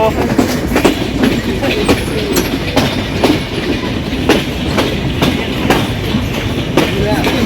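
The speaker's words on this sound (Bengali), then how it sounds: "ফাইনালি বনলতা এক্সপ্রেস রাজশাহী প্রবেশ করছে" The Banalata Express, a nonstop Dhaka–Rajshahi passenger train, rolling into Rajshahi with a loud, steady rumble and rhythmic clickety-clack of wheels over rail joints, heard close from aboard.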